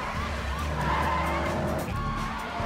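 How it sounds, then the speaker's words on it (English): Tires skid and squeal as a car is driven hard in a police chase, with a steady engine roar and sliding screeches running throughout. "That's your normal car chase"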